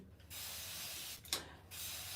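Close, soft hissing sprays from a spray bottle, two bursts separated by a short gap with a faint click between them.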